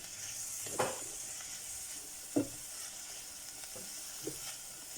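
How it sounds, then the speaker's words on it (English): Onions fry in a pan with juices left from stewing beef steak, a steady soft sizzle and hiss punctuated by a few muted scrapes and stirs of a utensil. "So we're going to cook these onions for roughly about 3 to 5 minutes."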